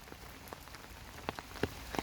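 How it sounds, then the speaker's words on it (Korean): Rain falls outdoors in a quiet, soft patter, with scattered individual drops ticking and plopping on a nearby surface at an irregular rhythm. "비가 와서 꽃이 다 떨어졌어요"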